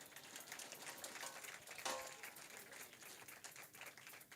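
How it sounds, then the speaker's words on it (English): Applause for competition winners at a day of an African edition event, soft, dense clapping from a crowd, steady and fairly distant, with one sharper burst partway through. "Round of applause for the winners"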